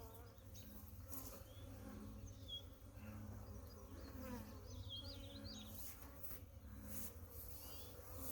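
Carniolan honey bees buzzing around a hive, a continuous dense drone with individual insects whining past close by, faint overall and with no talk.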